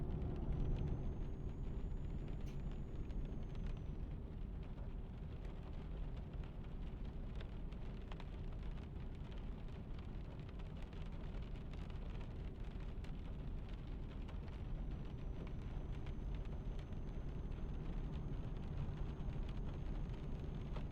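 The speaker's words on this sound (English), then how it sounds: "Gosh, the rain's coming right down right now." Heavy rain in the truck-driving game Euro Truck Simulator 2 pours down steadily on a truck, a dense, constant wash of drops lasting throughout with no talk.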